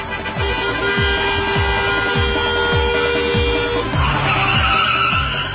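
Cars race in a wedding procession in Ingushetia, speeding to the groom's yard behind the bride's car; engines roar with repeated loud tire skids and squeals in a steady rhythm, with a horn-like tone held in the background.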